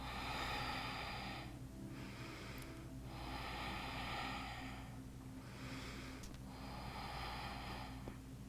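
Slow, deep breaths during a yoga stretching flow, three long airy exhales spaced a few seconds apart, close and soft over a steady low background hum.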